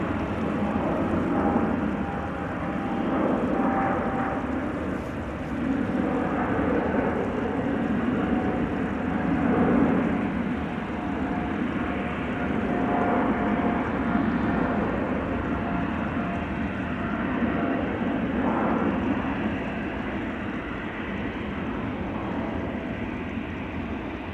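A Qatar Airways airliner takes off from Amsterdam Schiphol, its steady engine roar broad and sustained at moderate distance, swelling slightly mid-pass with no voices.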